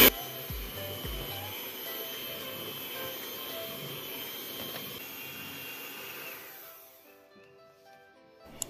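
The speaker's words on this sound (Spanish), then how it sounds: "Ahora sí le voy a poner las nueces que ya piqué. Y lo voy a moler otro poquito más." A blender grinds chopped walnuts into homemade cake batter with a steady, loud whirring drone that runs for several seconds before cutting off, leaving a brief quiet tail with a couple of small clicks.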